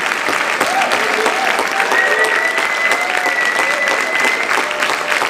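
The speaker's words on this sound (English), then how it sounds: "A big round of applause." An audience applauding at a high school awards night, sustained clapping from a crowd throughout, with faint whistles or cheers rising above it.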